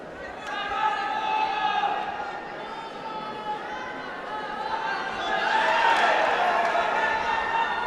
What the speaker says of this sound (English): As you can hear the crowd at the back, the Italians very, very vocal indeed.